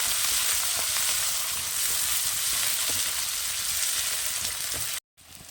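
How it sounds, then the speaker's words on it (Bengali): Onions frying in hot oil with whole cumin seeds, a steady, dense sizzle heard up close that runs without a break before cutting out sharply near the end. "এর উপরে আমি পেঁয়াজটা দিয়ে দেবো পেঁয়াজটা একটু ভালো করে লাল লাল করে ভেজে নেবো"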